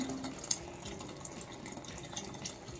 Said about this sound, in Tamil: அதனால தான் சுடுதண்ணி ஊற்றிருக்கிறது